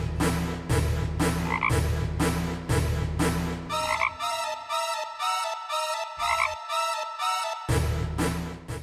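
Frogs in a Final Fantasy video game croak in a loud, rapid pulsing chorus of rhythmic synthetic bursts, with a brief gap midway before the croaking resumes.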